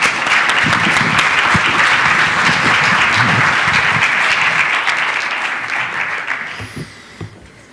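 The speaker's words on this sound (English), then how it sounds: "applause, please." Conference audience applauding in a large hall, a dense, loud, sustained wash of many clapping hands that holds steady for several seconds and then tapers off toward the end.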